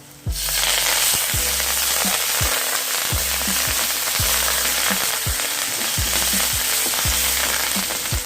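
Curry leaves crackle and sizzle loudly in hot oil for a pepper pongal tempering, a dense continuous frying hiss with steady rhythmic metallic stirring knocks throughout, no voices.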